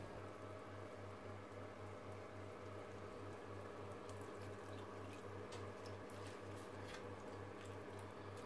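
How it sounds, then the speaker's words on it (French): Water is poured into the tray of an old oven, giving a soft, steady trickle and splash that is faint and continuous over a low pulsing hum. "J'ajoute de l'eau dans le plateau pour éviter une grillée."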